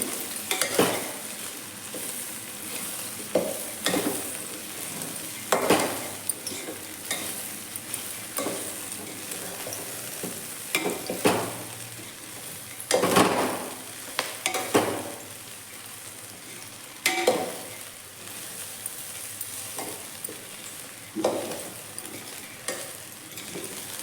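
Horse gram stir-fry with grated coconut being stirred in a pan over a low flame: steady frying sizzle broken by repeated scraping strokes of a spoon against the pan, close and fairly loud.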